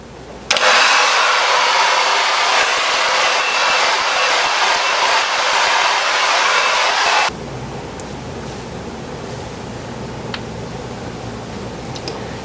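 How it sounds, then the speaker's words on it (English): A blow dryer on its cold setting drying hair roars loudly and steadily as a broad airy whoosh for about seven seconds, then cuts off abruptly, leaving quiet room tone with no talk. "I dry it with blow dryer."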